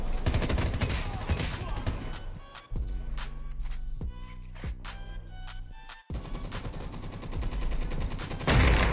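Rapid bursts of automatic gunfire and single shots in the mobile shooter game Call of Duty Mobile, loud and close, with brief pauses between volleys and someone talking over the action.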